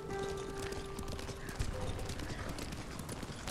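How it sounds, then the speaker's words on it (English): Horse hooves clip-clop steadily in the video game Ghost of Tsushima, a continuous trotting rhythm with brief mechanical clatter layered over it. "Magical ghost horse."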